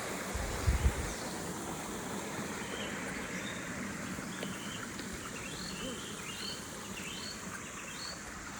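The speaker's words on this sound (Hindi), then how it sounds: "फिर झरना आ गया।" Steady, broadband rush of a forest waterfall near Semadoh fills the clip, with thin insect and bird chirps sitting faintly above the continuous water noise.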